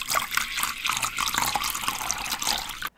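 Water pours steadily and continuously into a vessel for about three seconds, a bright splashing trickle that stops abruptly at the end.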